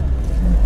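A Lada Niva engine drones low and loud at high revs in second low gear while the wheels slip on an uphill slope, a brief continuous rumble close by.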